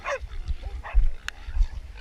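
Hunting dogs bark and yelp at a wild boar in short, sharp bursts, close and loud, amid scuffling and a brief high squeal, in Otago, New Zealand.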